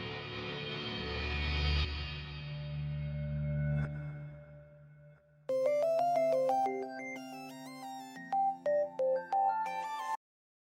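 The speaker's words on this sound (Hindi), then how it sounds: "जा रहा है उसका फोन।" A fading low tone gives way to a phone ringtone, a bright electronic melody of quick repeated notes, played loud and close.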